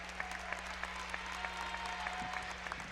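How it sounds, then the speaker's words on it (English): A basketball crowd at a Rose-Hulman men's game against Mount St. Joseph applauds the senior class, a steady wash of many hands clapping in a large gym, fairly distant, with a low hum beneath. "let's have one more round of applause for this outstanding senior class"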